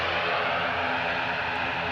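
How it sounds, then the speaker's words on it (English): A Turkish Airlines Airbus A321 departs Edinburgh airport with a loud, sustained jet engine roar, steady and unbroken across the short span, with no voices. "Turkish on the way back out with their A321"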